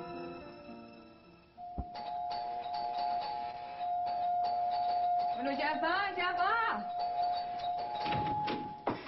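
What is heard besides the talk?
doorbell ringing repeatedly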